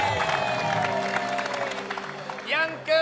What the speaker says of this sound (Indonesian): Luna Maya, tepuk tangan dong buat Luna